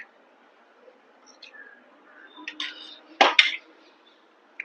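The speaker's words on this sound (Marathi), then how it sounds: "हे चांगलं असं मिक्स करून घेऊया." Mashed potato and semolina worked together in a bowl with a spoon, a few soft scrapes building to two sharp clinks of utensil against the bowl, close and quiet.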